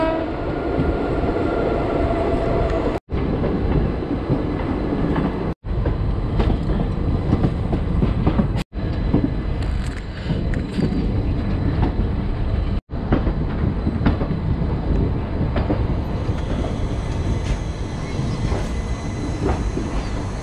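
Shramjeevi Express passenger train rolling through Bareilly Junction, a steady loud rumble of wagons on the rails with clacking wheels and brief squeals, continuous and close for about twenty seconds.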